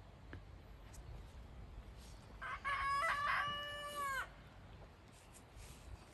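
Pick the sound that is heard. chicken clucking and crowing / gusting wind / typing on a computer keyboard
chicken clucking and crowing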